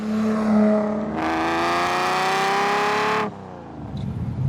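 A 1960s Lamborghini 400GT grand tourer accelerating hard, its engine note climbing in a loud, rising sustained roar for about two seconds before easing back off, heard close with no talk.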